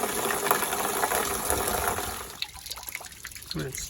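Water draining out of an RV water heater tank, a splashing, trickling stream that gradually thins and becomes softer and more broken, fairly faint, with a voice speaking partway through.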